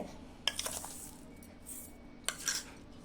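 A teaspoon clinks against a small jar while sugar is spooned in for cold coffee, two brief bursts of close metallic tapping separated by a quiet pause.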